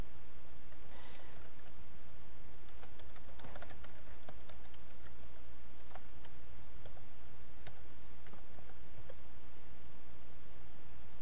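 Someone types a login password on a computer keyboard, giving soft, close, irregular key clicks at a steady typing pace with a few sharper taps, alone over faint room hiss.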